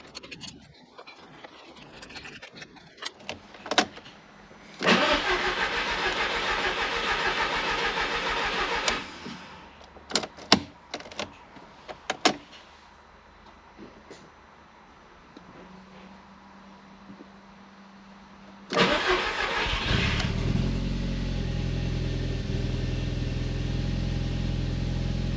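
An Audi TT MK1 engine after an inlet manifold and injector refresh, cranking twice with loud starter bursts before catching on the second try and settling into a steady close idle, with clicks and clunks between attempts.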